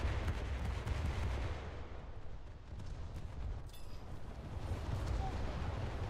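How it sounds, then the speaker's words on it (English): A player's ship blowing up in the War Thunder video game: a loud, dense, low-heavy roar of blast and gunfire-like noise that rumbles steadily for about six seconds, dipping slightly midway before swelling again. "I was in perfect health and I just exploded."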